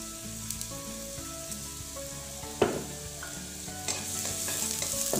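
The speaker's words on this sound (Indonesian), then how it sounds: "Ditumis sampai bawang harum dan layu." Chopped onion sizzles in hot oil in a pan for a zucchini pasta sauce: a steady, close frying hiss with occasional clacks of the stirring utensil, and no voices.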